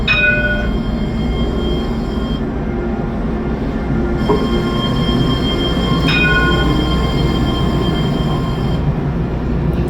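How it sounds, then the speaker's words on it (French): Two Alstom trams passing each other at Hauts du Chazal, a loud steady rolling rumble with sustained high-pitched wheel squeals and metallic ringing tones throughout, close to the listener. "Les deux tramways du Saint-Wagon qui se croisent."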